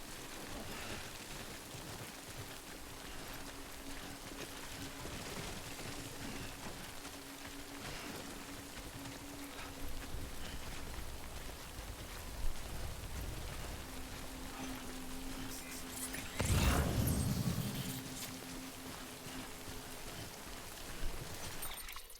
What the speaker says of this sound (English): When the rain started falling, they left.